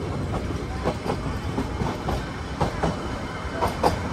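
Ooty toy train running through eucalyptus forest between Ooty and Coonoor, a steady rumbling ride with rhythmic clickety-clack wheel beats and faint squeals, close and continuous with no talking.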